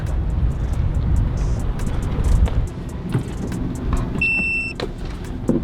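A manual car's engine runs steadily while it is driven, a loud, continuous rumble with road noise close by. A short electronic beep sounds near the end.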